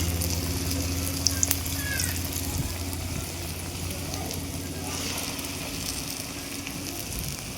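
Moong dal fritters (pesara garellu) deep-frying in hot oil, giving a steady, dense sizzle and bubbling hiss that runs unbroken throughout, close and fairly loud.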